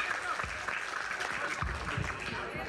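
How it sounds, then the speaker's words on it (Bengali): Audience applause at a Bengali wedding concert event, a steady wash of clapping filling the room at moderate level with some voices mixed in. "আমি ওদের জন্য সবার কাছে একটা জোরে করতালি চাচ্ছি"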